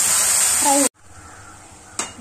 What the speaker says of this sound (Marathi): आता मस्त तेल तापले, हे जे आपण वाटण केलेले ते टाकून घेऊया